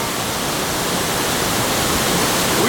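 A waterfall on the Bolaven Plateau in Laos pours in a loud, steady, broadband roar, close and unbroken, with no voices.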